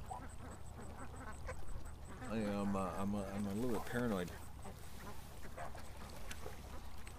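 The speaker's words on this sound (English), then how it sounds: "When you sit there and all the ducks behind you" Ducks quack close behind a person, a burst of repeated nasal calls in the middle stretch, with someone talking before and after against steady outdoor background noise.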